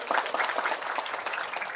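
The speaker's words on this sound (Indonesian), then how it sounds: "Tepuk tangan dulu lah." A crowd at an Indonesian religious talk breaks into dense, continuous applause, many hands clapping together at an even level for a couple of seconds.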